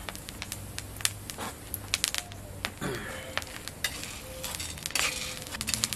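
Coffee beans roast and get stirred in a pan, giving a steady dry rattle and crackle with scattered sharp clicks and scrapes from the stirring utensil.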